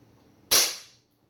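A single sharp crack from a blowback BB airsoft pistol fired once in a quiet room, loud and brief with a short fading tail.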